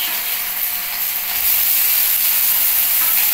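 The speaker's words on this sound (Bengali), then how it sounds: "পেঁয়াজটাকে একটু লাল লাল করে ভেজে নিচ্ছি।" Onions frying in mustard oil with a steady, broad hiss of sizzling that gets a little louder partway through, heard close with no talking.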